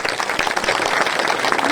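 A crowd at a Ravidas Jayanti celebration gathering claps in a brief, dense burst of applause, fairly loud and steady, with no voices standing out.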